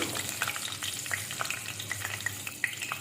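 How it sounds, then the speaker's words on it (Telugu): Curry leaves fry in hot oil left over from making peanut pakodi, a steady crackling sizzle dotted with sharp pops and light stirring, heard close up with no voices. "ఇదే ఆయిల్లో కరివేపాకు కూడా ఫ్రై చేసుకుందాం."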